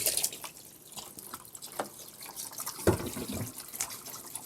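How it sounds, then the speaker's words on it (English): Hands being rinsed of raw meat under a running kitchen tap, a soft, faint trickle of water with light drips and splashes into the sink, no voices. "let me just wash this meat off of my hands"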